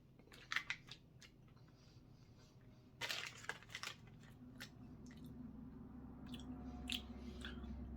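Someone eating an oatmeal cookie from a US military MRE ration, with close crunchy bites around the first second and again near three seconds, followed by quieter chewing over a faint background hum.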